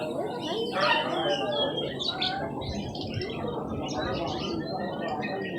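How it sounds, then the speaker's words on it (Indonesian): Guineafowl and Polish chickens at a busy bird market calling continuously, a dense chorus of clucks and chirps with other birds mixed in, loud and close against constant market bustle. "ini adalah ayam mutiara ya, dan ayam Poland"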